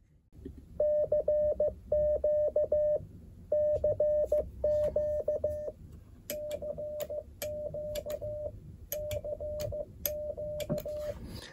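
A single steady beeping tone keys out Morse code CQ in short and long pulses at 15 words per minute, repeating the same rhythmic group several times.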